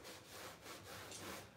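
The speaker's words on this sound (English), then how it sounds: "I'm just wet sanding the areas that I wasn't very happy with" Wet sanding over a painted piece with pink, green and black base coat layers, a steady close scrubbing rasp in repeated back-and-forth strokes that continue without a pause.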